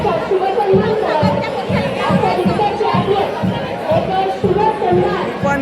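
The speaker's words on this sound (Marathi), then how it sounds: "भाई तुफान गर्दी, जत्रेला तुफान गर्दी आहे बघा" A huge crowd at a temple fair (jatra) fills the air with dense, continuous chatter and shouting, loud and close, over a steady rhythmic thumping beat.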